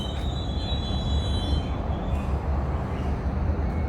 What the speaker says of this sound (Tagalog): Ayun ang train.